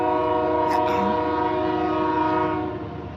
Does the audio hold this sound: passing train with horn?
yes